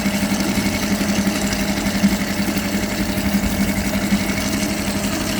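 A homemade pull-start boat engine runs steadily out of gear, a close, buzzing putter with a regular pulsing rhythm at an even, moderate level.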